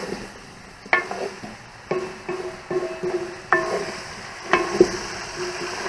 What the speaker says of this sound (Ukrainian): не солимо, не перчимо, нічого не робимо. Хай воно обжарюється.